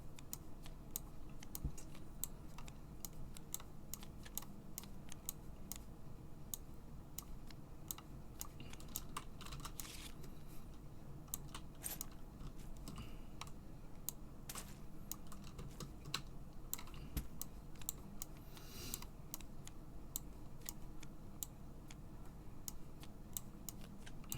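Computer keyboard keys are typed in quick, irregular clicks that run steadily and faintly for the whole stretch, with no talking.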